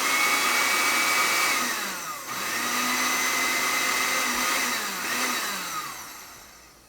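A small electric grinder or blender motor whirs steadily while blending jerk seasoning with key lime juice, its pitch dipping and recovering as it strains on the thick mixture, then winding down near the end.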